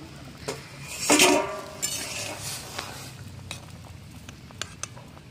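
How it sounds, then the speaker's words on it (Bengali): A metal lid clinks and scrapes off a pot of potatoes boiling in salted water, a bright clatter near the start followed by light clinks and faint kitchen rattles. "ঢাকনাটা এবার খুলে দেব।"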